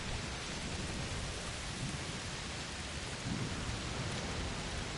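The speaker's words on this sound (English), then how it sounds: "it's raining a lot." Heavy rain pours steadily in the video game A Plague Tale: Requiem, a dense unbroken wash with low thunder rumbling beneath it and no voices.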